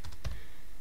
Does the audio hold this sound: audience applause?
no